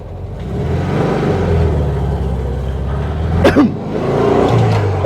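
A 1972 VW Super Beetle engine runs with a steady, loud rumbling drone close by, with a brief rising whine partway through and no talking over it.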